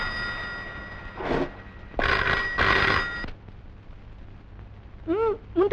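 A telephone rings in short, loud bursts, one brief ring followed by two longer ones, then falls silent before a different short sound near the end; no one speaks over the ringing.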